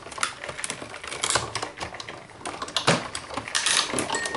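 Big Shot die-cutting machine cranked by hand to roll a cutting plate sandwich with adhesive-backed paper through, giving an irregular series of clicking, ratcheting mechanical sounds at close range.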